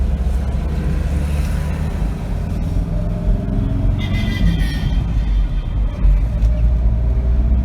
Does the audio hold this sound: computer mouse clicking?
no